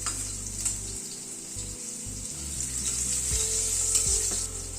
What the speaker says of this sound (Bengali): আলুটা একটুখানি নাড়াচাড়া করে নিয়ে তারপরে অন্যান্য সবজিগুলো অ্যাড করছি